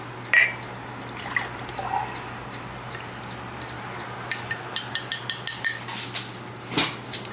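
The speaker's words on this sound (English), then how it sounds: "I'm gonna make myself a matcha latte right now." Matcha latte being prepared at home, with a sharp clink at the start, soft liquid sounds, then a quick run of rhythmic tapping or whisking clicks against a cup and a final clunk, close and moderately loud.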